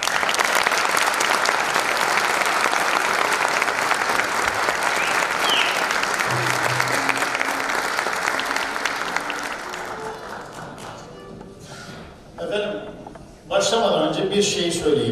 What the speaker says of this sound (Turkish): büyük alkış istiyorum